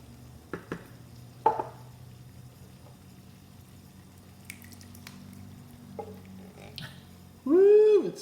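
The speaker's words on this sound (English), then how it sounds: "Now we're going to add in our 2 cans of tomatoes with the juice." Two cans of tomatoes with their juice go into a pan of wine reduced by half for chicken cacciatore, giving soft wet plops and scattered clinks of stirring, with a louder scrape and slosh right at the end.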